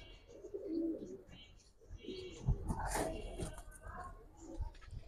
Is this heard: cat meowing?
no